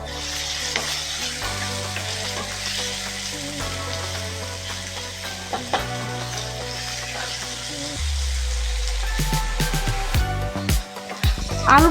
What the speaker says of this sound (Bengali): আলুটা একটু ভাজা হয়ে আসার পর আমরা এর মধ্যে দিয়ে দেব গাজর